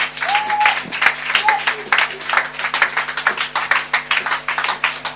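A church congregation applauds in a dense burst of rapid clapping that pulses for several seconds, close and loud, with a few voices calling out over it.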